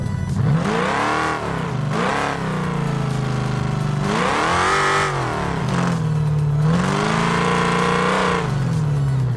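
A custom car with a V8 engine in the BeamNG Drive driving game revs loudly and repeatedly, the pitch climbing and falling in several long surges with a continuous engine drone between them and no talk.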